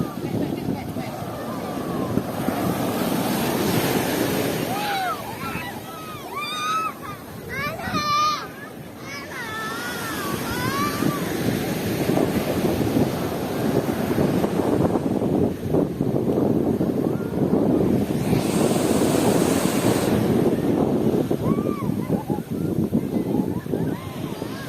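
Ocean surf and gusting wind at Lampuuk beach in Aceh, a broad, continuous rushing roar with the wind buffeting the microphone, and people, including a child, talking faintly now and then.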